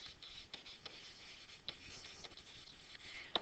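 Pen scratching across paper while writing on a graph, soft close-up strokes with a few sharper taps, quiet and steady, with no talking.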